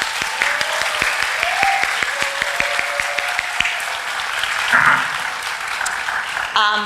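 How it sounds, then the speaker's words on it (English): A crowd applauds steadily and fairly loudly throughout at a school moving-up ceremony, a dense wash of clapping that carries on without a break. "Let's give them a nice round of applause."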